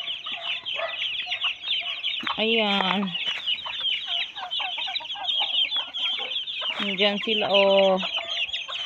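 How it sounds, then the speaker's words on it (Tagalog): Pet chickens clucking busily at feeding time on a farm, with a rooster-like call rising twice amid the steady chatter of the flock, while a person speaks briefly nearby. "Pakain ko muna yung aming alagang manok."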